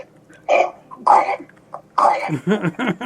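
Several short, sharp snorting bursts from a small dog, the last ones sputtering in quick succession, fairly close and loud.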